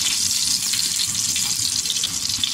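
Tadka tempering sizzles hard in a hot pan, a loud, close, continuous hiss and crackle with no pauses and no one speaking.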